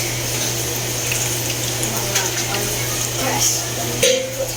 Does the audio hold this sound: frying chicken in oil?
yes